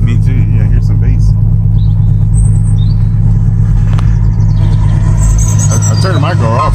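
Heavy car audio bass from two Kicker L7 subwoofers on 1800 watts, a loud, steady low-end throb that fills the whole clip, with people talking over it.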